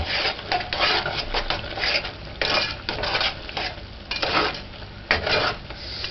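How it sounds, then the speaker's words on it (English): A spoon stirs a thick coconut drop mixture in a cooking pot, giving repeated scraping and rubbing strokes in uneven bursts, close and fairly loud, with no talking. "So you just stir it in."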